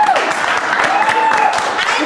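An audience at a Saturday TV show claps during a prize presentation, a short dense burst of applause. A voice rises over the clapping.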